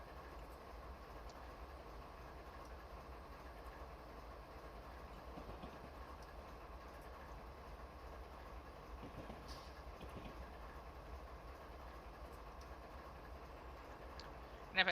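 A train passes the Leavenworth Amtrak station, a faint, steady rumble of rolling wagons heard from a distance with soft clicks and a low continuous drone.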